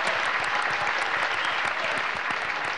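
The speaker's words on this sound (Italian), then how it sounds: "facciamo forte, forte applauso." A concert audience gives loud, sustained applause after a Neapolitan song performance, a dense, even patter of many clapping hands throughout with no voices.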